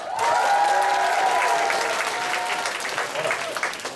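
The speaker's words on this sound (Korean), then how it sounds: "여러분 박수 크게 쳐주실 거죠?" Church youth group audience applauding to welcome a performer, steady crowd clapping throughout with tonal voices or cheering layered over it.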